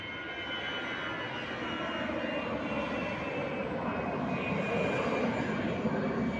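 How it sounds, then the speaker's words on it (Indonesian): A Citilink passenger airplane taking off from SMB II airport, heard as a steady, loud, broadband jet engine roar with a rising whine that holds throughout. "Kayaknya take off ini. Berangkat pesawatnya."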